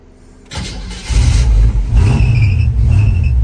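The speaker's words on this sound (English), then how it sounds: "We're gonna start up our 53 Chevy 3100. Good running truck." A 1953 Chevrolet 3100 pickup truck engine cranks over and catches after a moment of quiet, then settles into a loud, steady idle with a faint squealing belt whining above it.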